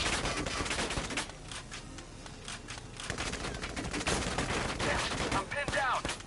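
Bursts of mortar and gunfire from the tactical war game Valkyria Chronicles 4, a dense run of sharp explosive cracks and rattling shots, loud and close, with a heavier flurry near the end.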